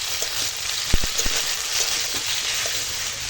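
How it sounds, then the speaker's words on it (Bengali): Potato, tomato and ginger-garlic paste fry together in a pan, a dense sizzle under a few sharp spoon knocks and stirring scrapes near the middle. "দিয়ে দেব কেটে রাখা আলু টমেটো দিয়ে একসঙ্গে সব কষাবো"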